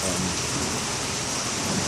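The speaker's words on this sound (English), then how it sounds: "We got thunder and lightning going on. The rain's starting to pick up a little bit." Steady, dense rain hisses loudly outdoors during a thunderstorm with lightning, building in intensity while a low rumble of thunder sits underneath.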